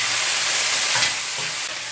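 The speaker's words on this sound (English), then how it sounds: "once all our veggies are fried up, we're going to add our curry because we have to burn it" Vegetables and curry paste fry hard in a pan for a coconut curry shrimp dish, giving a steady loud sizzle with a bit of stirring and scraping throughout, no voices.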